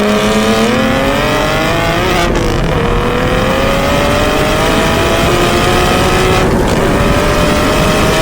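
A single-turbo BMW F80 M3 on its second boost map at 36 psi accelerates hard down a drag strip, engine pitch climbing steadily through two gear shifts, loud and continuous with no talking.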